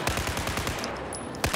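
Rapid automatic gunfire in Battlefield 4, a fast rhythmic burst of close, loud shots followed by a single sharper report at the end.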